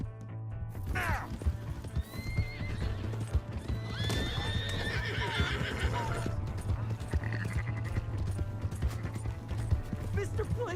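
Red Dead Redemption horse gallops with rapid clip-clop hoofbeats and a shrill whinny, set against game music and excited shouting voices.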